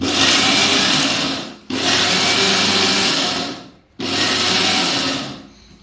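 Mixer grinder whirring loudly as it grinds dry peanut chutney powder, running in three long bursts with brief pauses between them, close and steady with no voices.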